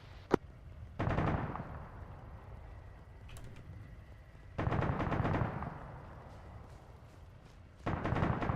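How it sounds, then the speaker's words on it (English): Bursts of heavy .50 caliber machine gun fire from a vehicle in the Arma video game on Zargabad, heard at a distance as three separate loud bursts, around 1, 4.6 and 8 seconds, with quieter ambient noise between them. "There's a 50 cal firing to the southeast"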